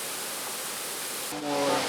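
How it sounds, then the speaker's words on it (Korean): Hot spring water pours from a waterfall near Arenal Volcano in Costa Rica, a steady broadband rushing roar that holds constant and swells slightly louder near the end. "뜨거운 온천수가 폭포에서 쏟아진다."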